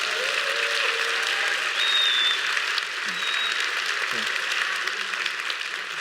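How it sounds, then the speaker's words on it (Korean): Audience applause at a Korean lecture-style talk about rural schoolchildren learning ice hockey, a steady, moderately loud round of clapping lasting several seconds with a faint murmur of voices. "박수 주세요."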